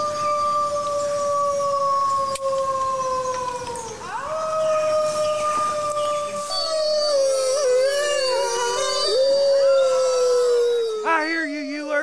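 A loud, drawn-out howl at the moon, with long wavering tones that rise and fall, then break into shakier, overlapping cries near the end.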